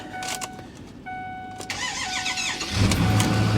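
A Ford F-350 truck engine cranks briefly, then catches and roars to life, settling into a rumbling idle nearby.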